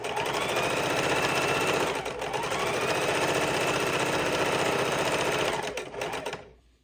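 A sewing machine stitching a rolled-up fidget quilt runs steadily at high speed, its rapid mechanical stitching loud and continuous before slowing and stopping at the end.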